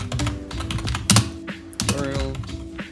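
Rapid keystrokes on a computer keyboard while naming a Lightroom preset, a dense run of close clicky taps with a faint voice briefly underneath.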